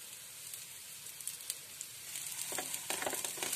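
A breakfast dish fries in oil in a pan with a steady, quiet sizzle. The crackling grows busier and louder toward the end, with no voices.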